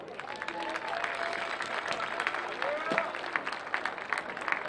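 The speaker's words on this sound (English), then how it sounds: "how about a round of applause for the Tusculum Sports Hall of Fame class of 2018" Crowd applause at a college sports hall of fame induction before a football game, a broad clapping wash with voices and cheers mixed in, rising and falling across several seconds.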